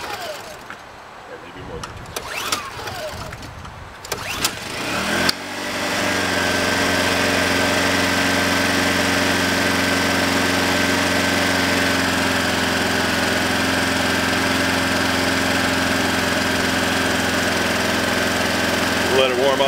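Honda 1000W portable generator: rattling pull-start attempts and someone speaking, then the engine catches and settles into a steady, loud idle hum that continues to the end.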